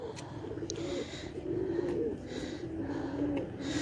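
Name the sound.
Madina teddy pigeon cooing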